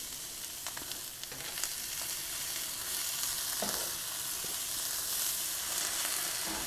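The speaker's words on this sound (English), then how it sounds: "I'm going to add my peppers and onions" Peppers and onions sizzle steadily in a hot oiled pan, seasoned with seasoned salt, with soft scraping stirs now and then, close and continuous without talk.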